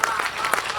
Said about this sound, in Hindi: तालियां जरा भरपूर बजाओ दोस्तों